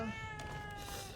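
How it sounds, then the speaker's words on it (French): A cat in the video game The Evil Within 2 lets out a single drawn-out, tonal meow over a quiet background hum, with no talking. "Le chat, il est de retour!"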